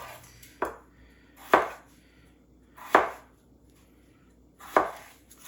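Vegetables chopped into small pieces on a cutting board: four sharp, loud knife strikes land close by at uneven intervals, with quiet pauses between and no voices.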